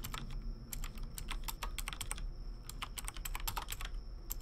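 Rapid typing on a computer keyboard: quick, uneven bursts of close key clicks with brief pauses, heard alone without any talking.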